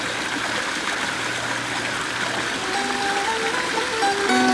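Small waterfall running in a quiet creek bed, a steady close rushing and trickling flow with faint bird-like tones near the end, no voices.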